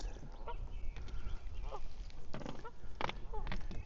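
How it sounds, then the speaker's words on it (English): Goslings call at Geode State Park with several short, faint honking and peeping calls over a steady outdoor rumble of wind or traffic. "there are my first goslings of the season"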